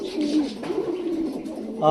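A pigeon coos inside a cage on a bird farm: a close, soft, rolling coo repeated for a couple of seconds.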